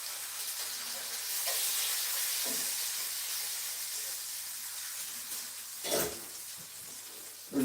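Thick bacon frying in a pan gives a steady, fairly loud sizzling hiss that runs throughout, with a few brief clatters toward the end.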